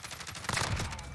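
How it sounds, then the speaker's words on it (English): Rapid automatic fire from a Kilo 141 assault rifle with an Emerald tracer skin in a Call of Duty-style shooter, a short dense burst of sharp shots over about a second, fairly loud. "Oh, I'm shooting a dead body."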